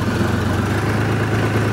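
Close, loud, steady idle of a 2018 DTZ HPX tractor engine, a low throbbing drone with an even rhythmic chug and no talk.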